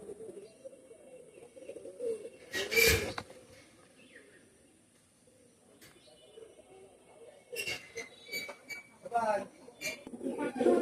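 Pigeons coo softly at a bird market, with a male and a female pigeon nearby; low murmuring calls sit under bursts of sharper noise and clinks, and people talk throughout.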